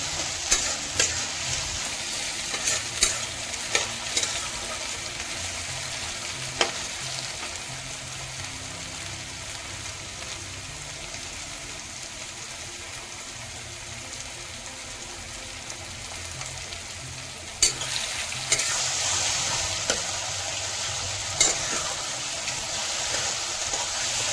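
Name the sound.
onion and chili frying in oil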